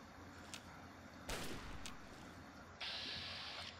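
Gunfire in the video game Fallout 3: a few isolated sharp shots, one louder burst near the middle and another late, set against steady ambient game noise, with no talking.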